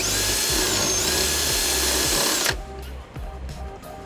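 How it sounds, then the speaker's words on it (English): A power drill bores a 1/2-inch hole through the trunk pan of a 2002 Nissan Altima, a loud, close, high whine with rhythmic grinding pulses that stops abruptly halfway through, leaving quieter mechanical rattles. "We're going to drill a 1/2-inch hole here"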